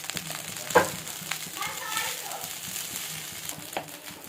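Paneer fried rice stirred in a pan, soft scraping and light sizzling with a sharp utensil clack near the start, faint and close, with children's voices in the background.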